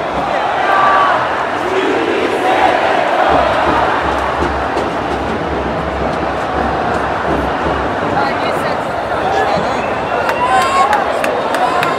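Dense crowd roar at the Maracanã stadium as Nova Iguaçu fans celebrate qualification against Vasco, a loud, continuous wash of cheering and chanting with voices mixed throughout and a steady low rumble underneath.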